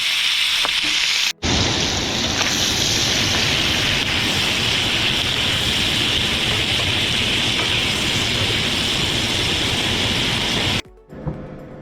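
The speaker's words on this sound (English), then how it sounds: "here's the sausage that we pan seared" Sausage for a Cajun gumbo sears in a hot pan, a loud, steady, dense sizzle that runs nearly unbroken for about ten seconds after a brief gap near the start, cutting off abruptly near the end.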